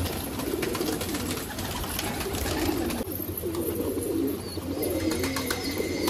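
Pigeons of an old breed, including a dove-type pigeon, cooing steadily in a loft among many birds, with continuous soft cooing and fluttery background bird noise, close and alone without talk.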